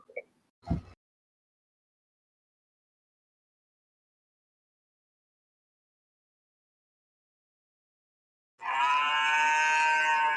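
After a couple of brief knocks and a long silence, a cow lets out a sustained, loud, harmonic moo that fills the last two seconds.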